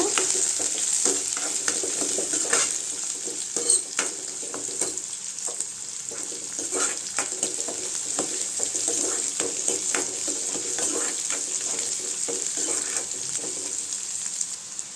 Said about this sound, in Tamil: காஞ்ச மிளகாய் ரெண்டு போட்டுக்கலாங்க வெங்காயம் நல்லா வதங்கட்டுங்க